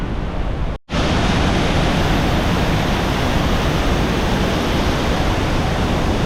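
The Iguazu waterfall roars as a dense, unbroken wall of rushing water, loud and near, with one brief dropout early on and no voices.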